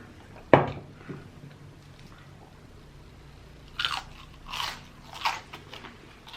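Crunchy battered onion rings bitten at close range in a mukbang, one sharp crunch near the start followed by a few softer chewing crunches later, with quiet pauses between.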